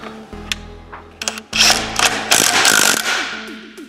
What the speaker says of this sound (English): then we add the large 18 millimeter nut. We use an impact driver